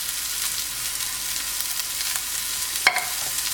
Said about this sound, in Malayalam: എണ്ണയിലൊന്ന് നന്നായിട്ട് വാടണം സവാള.